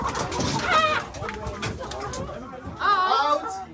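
Chickens in an odorless coop that uses wood-chip carbon bedding give short clucking and warbling calls, near and fairly loud, over a busy background with some overlapping voices.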